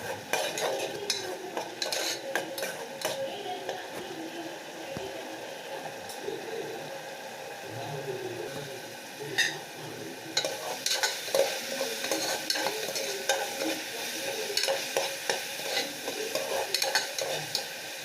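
Masala for green pea kurma being sautéed in a pan, with a steady sizzle under repeated scraping and stirring clinks of a spoon against metal, close and continuous with no talk.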